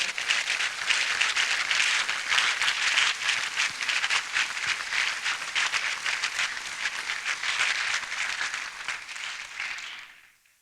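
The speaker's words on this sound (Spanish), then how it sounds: "Dale un aplauso a él," A church congregation at a Sunday service breaks into sustained applause, dense, loud and continuous for around ten seconds before fading quickly to silence.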